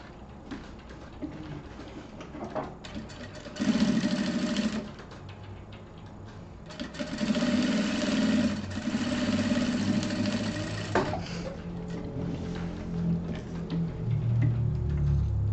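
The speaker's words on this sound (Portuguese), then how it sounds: "eu vou passar uma costura aqui em cima." A sewing machine stitches the lining of a fabric wallet. It runs in bursts, first one short run and then a longer steady whirring stretch, with quiet handling noises in the pauses between runs.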